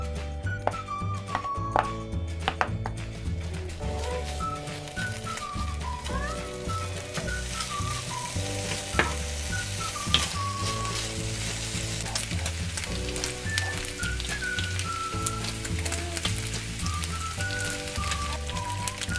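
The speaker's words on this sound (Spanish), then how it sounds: "Ahora voy a cocinar el tocino que hemos picado." Finely chopped bacon sizzles and crackles steadily in a pan, a dense, continuous frying hiss with occasional sharper pops and light scraping, while faint background music plays.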